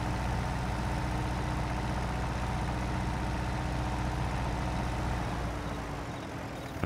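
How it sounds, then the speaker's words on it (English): A small tractor in Farming Simulator 22 idles with a steady, unbroken low engine drone that holds at an even level throughout, with no talking over it. "This is a really cool little tractor."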